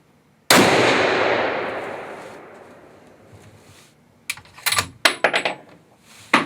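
A rifle fired at a 200-yard target with a Swarovski BT ballistic turret set to its green position: one sharp, loud report followed by a long decaying echo, then a few small metallic clinks.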